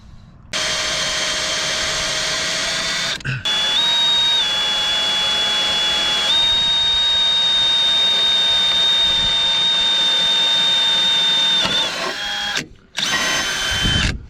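A loud, steady electric drill whines continuously, its pitch shifting slightly as it bites through the metal of a 2002 MCI coach door, with brief pauses near the end.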